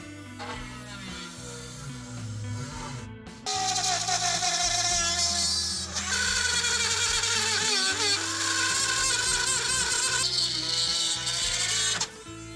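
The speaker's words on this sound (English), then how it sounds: "I'm going to try to get this Dremel and hopefully see if maybe I can drill it through" A high-pitched Dremel rotary tool drilling whines loudly, its pitch shifting as it bites into material, with a brief pause before it revs up again.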